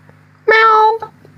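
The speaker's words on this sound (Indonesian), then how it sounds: "Tolong kalau lagi diskusi jangan bunyi kucing." A cat gives a single clear meow, loud and close, during a quiet indoor discussion. A short chirp follows it.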